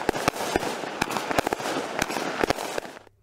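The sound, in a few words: fireworks battery (Maximum Potential) firing several bangs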